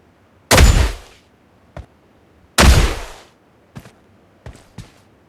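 Shots from an ice gun fired at a vehicle in the BGMI video game: two sharp, loud bursts a couple of seconds apart, each followed by fainter single cracks and clicks, with no talk.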